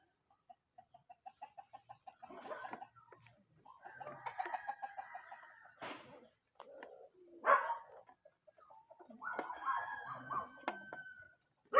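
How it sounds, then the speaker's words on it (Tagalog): Native roosters crow repeatedly at close range, with clucking hens and a barking dog mixed in, in short bursts separated by brief pauses. "Ayan mga native na manok yan."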